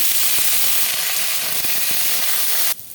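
Potato and pointed gourd peels fry in hot mustard oil with dried red chili and nigella seeds, making a loud, continuous sizzle with faint stirring knocks before it cuts off abruptly.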